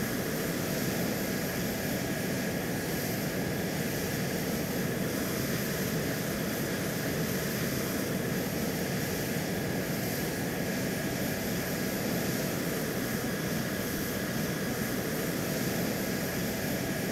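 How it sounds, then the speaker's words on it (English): An AV-8 Harrier jet in the video game ARMA II taxis and takes off, a steady, loud engine roar that holds unchanged throughout with no other sounds. "we'll taxi up here to the hold short line and we'll take off"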